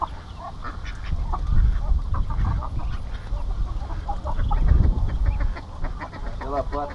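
Outdoor guineafowl and ducks call on a farm in Mandaguari, Brazil: scattered cackling and squawking bird cries over a low rumbling background, with occasional faint voices nearby.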